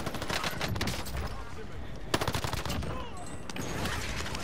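Rapid gunfire in Call of Duty's Rebirth plunder mode, bursts of automatic shots with a sharp louder crack midway, steady and fairly distant throughout.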